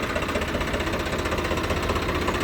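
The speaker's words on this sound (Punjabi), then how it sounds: "ਆਵਾਜ਼ ਤੇ ਪਤਾ ਲੱਗ ਜਾਂਦਾ ਬਾਈ ਟਰੈਕਟਰ ਦੀ" A steady, rumbling tractor engine, a Swaraj 855 or Arjun 555, runs continuously at close range, with a rough, knocking chug throughout and no voices.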